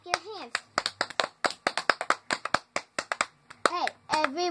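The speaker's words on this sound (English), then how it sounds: "Everyone clap your hands." Children at a classroom song-day session clap their hands in quick, uneven bursts of sharp slaps, mixed with a voice singing and talking over them.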